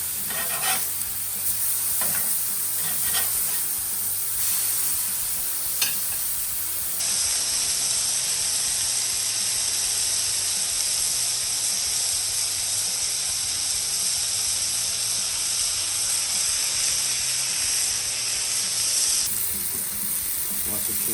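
Smash burger patties sizzling on a Kamado Joe grill, a steady close hiss and crackle of fat and juices running throughout, with a few sharper clicks of a spatula near the start.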